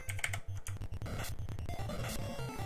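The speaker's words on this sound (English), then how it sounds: "that's why you're hearing all the mechanical keyboard sounds" Rapid clacking of mechanical keyboard keys played through an NES emulator for Final Fantasy, a dense, steady patter of keystrokes heard close and quiet with no voices.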